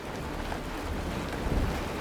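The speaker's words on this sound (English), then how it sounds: "The rain! It's raining!" Rain in the Honkai: Star Rail video game, a steady, even hiss of falling water with a soft low rumble beneath it, continuous throughout.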